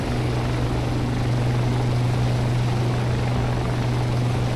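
Steady rotor drone of a Shergood H-92 helicopter in a flight simulator game, hovering over water to fill a fire bucket; a constant, even thrumming hum with a low rotor tone, no voices.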